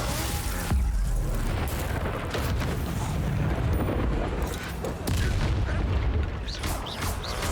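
A Confringo fire blast spell exploding in the Hogwarts Legacy video game, within a dense, continuous roar of booming blasts and rumbling impacts that barely lets up, loud and close with no speech.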